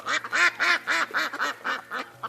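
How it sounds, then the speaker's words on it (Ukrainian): A female duck quacking, a loud close run of about eight evenly spaced nasal quacks in quick rhythm, with no other sound. "Крякати вміють тільки самки, селезні ні."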